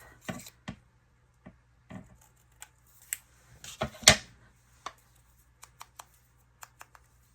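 Paper card cut in half during a craft session: a scattered series of short, crisp snips and taps, close and quiet, with no talking.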